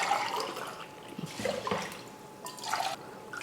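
Water poured into a pan for an oil-based brinjal curry, a close trickling splash in a few uneven bursts with gaps between them, heard alone.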